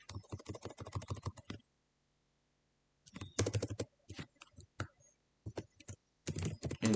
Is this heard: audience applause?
no